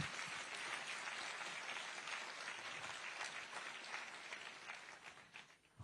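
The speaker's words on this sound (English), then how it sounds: "you can give a round of applause for that" Audience at an AIIMS Delhi event in a hall breaks into sustained applause, a dense wash of many hands clapping at a steady level, tapering slightly at the end.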